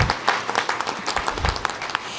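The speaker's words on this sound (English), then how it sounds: "let's give them a round of applause for their hard work to get here today" Applause at a middle school spelling bee, a smaller crowd whose individual claps stand out as distinct, fairly close sharp hits in an uneven rhythm, with no talking.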